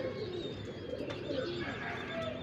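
Pigeons coo softly and repeatedly, a low murmuring burble close by over a quiet background.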